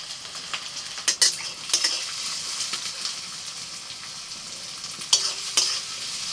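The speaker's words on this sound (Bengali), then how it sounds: "তেল গরম হয়ে গেছে, প্রথমে পেঁয়াজ দিয়ে দিই" Onions hit hot oil and fry with a steady, bright sizzle, broken by a few sharp clinks and scrapes of a utensil stirring them in the pan.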